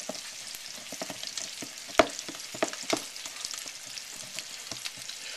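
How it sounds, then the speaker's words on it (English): A spatula stirs biscuit mix in a bowl, giving soft, irregular wet scraping and clicking with a few sharper taps, close and fairly quiet. "biscuit mix all stirred up like this"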